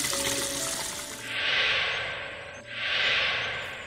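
Water being collected in the Linden Shades hidden object game, heard as two smooth pouring swells in a row, each rising and fading, with no one talking.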